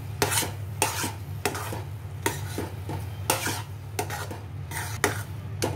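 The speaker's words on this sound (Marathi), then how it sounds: "अजून थोडासा मी मिक्स करते" Spoon scraping and clacking against a pot while mango sheera mixture is stirred, about a dozen sharp strokes in a loose, repeated rhythm, close and clear over a low steady hum.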